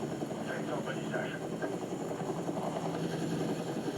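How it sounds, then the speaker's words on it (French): A helicopter in the video game Battlefield 6 gives a steady rotor and engine drone under dense game noise, with a voice talking over it. "C'est lui qui se bat avec un hélico."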